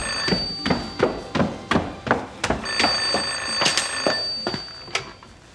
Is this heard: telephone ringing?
yes